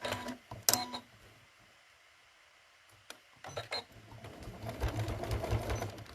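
A domestic sewing machine stitches around a folded fabric star trivet, starting with short stop-start bursts and then running in a steadier, faint whir with small clicks, in a quiet room.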